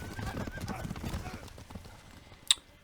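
Horses trample an executed prisoner in Crusader Kings 2, heard as rapid clip-clop hoofbeats and stamping over a rumbling game soundscape, closing with one sharp high accent near the end.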